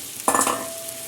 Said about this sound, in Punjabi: ਹੁਣ ਆਪਾਂ ਕੁੱਟਿਆ ਹੋਇਆ ਗੁੜ ਪਾ ਦੇਣਾ